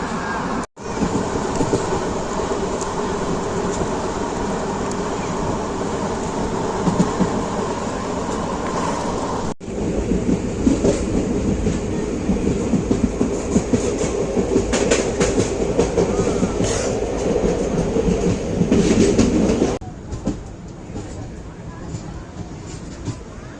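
The Kongu Nadu Intercity Express rolls along the tracks near Tirupati at about 110 km/h, with a loud continuous rumble and rattling clatter of wheels that drops away near the end.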